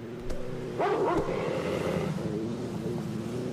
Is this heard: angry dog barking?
yes